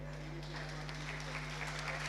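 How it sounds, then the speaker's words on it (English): A room of people applauding presenters at a community ideas forum, fairly soft scattered clapping over a constant low electrical hum, with no speech in the moment. "So everybody give them a round of applause."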